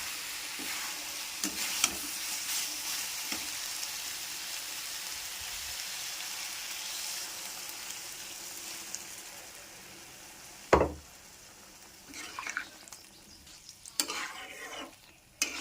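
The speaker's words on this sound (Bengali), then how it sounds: "এটা এখন এখানে আমরা জল দিয়ে দেবো।" Water poured into a pan of spice masala frying in oil for a Bengali kohlrabi curry, giving a steady hiss and sizzle with a few sharp bursts and clatters of stirring, fairly quiet and without talk.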